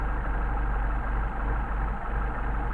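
A Mercedes 190SL engine idles steadily through its Solex 44PHH carburetors while the idle mixture screw on the number one carburetor is turned out, giving a continuous low rumble with a faint high whine and no voices.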